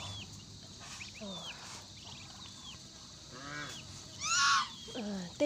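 Nasal honking calls from a group of waterfowl, scattered and then louder near the end, over quiet outdoor background.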